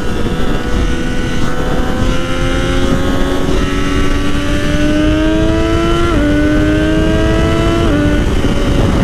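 Triumph Daytona 675R sport motorcycle engine running steadily and loudly, pitch climbing through the gears with brief dips at shifts, close and continuous with no voices.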